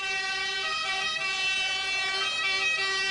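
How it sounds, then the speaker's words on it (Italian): Emergency ambulance sirens wail steadily and loudly through the whole stretch, layered harmonic tones with a slight pitch sway, set in the street tension after a Cagliari-Milan football match, with traffic noise beneath and no talking. "le ambulanze a sirene spiegate trasportano i feriti all'ospedale."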